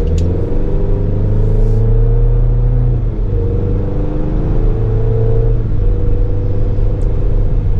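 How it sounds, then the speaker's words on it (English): A 2024 Chevrolet Colorado Z71 pickup with a 2.7-liter four-cylinder accelerates from a stop, a loud, low steady engine drone heard from inside the cab, with a brief shift in pitch partway through and no talking. "the pull out of this engine is really, really good for a 4-cylinder"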